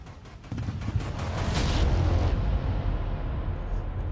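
A Stugna-P anti-tank missile launch and explosion in the Ukraine war: a sudden heavy blast swells into a sustained roaring rumble that slowly fades at a distance.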